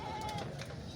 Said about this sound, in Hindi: ये बकरे बहुत हैवी वेट बकरे हैं।